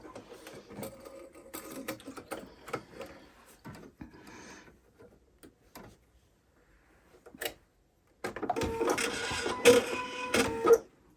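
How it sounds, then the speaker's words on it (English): Husqvarna embroidery machine fitted with a 200 mm x 200 mm metal hoop stitching a box outline around a quilt block, heard as a few quiet mechanical bursts early on, then a loud, steady, rapid needle clatter near the end. "this will stitch out a box around it"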